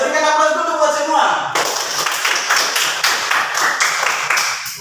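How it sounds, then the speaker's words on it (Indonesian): An audience in a classroom or hall breaks into applause, a dense, even spread of many hands clapping close by for several seconds after a voice finishes speaking, then tapering slightly at the end. "Berikan aplaus dulu buat semua."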